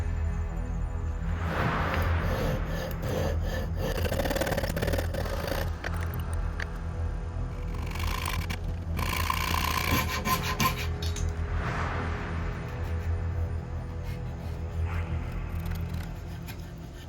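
A small saw or rasp works notches into the corners of a wooden candle holder platform, a steady rubbing, rasping stroke that keeps going throughout, close and alone with no talk.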